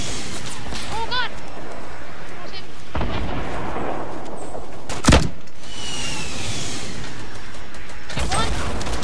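Rocket launcher fire and explosions in the Fortnite video game: a sharp, loud blast rings out about midway, set among dense game noise and gunfire-like bursts, with voices talking over the action.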